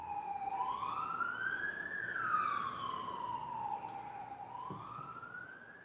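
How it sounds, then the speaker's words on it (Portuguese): An ambulance siren wails steadily as the vehicle passes by, rising and falling in long sweeping tones, fairly loud and close over a constant wash of background noise, with no talking. "Tá passando uma ambulância aqui agora."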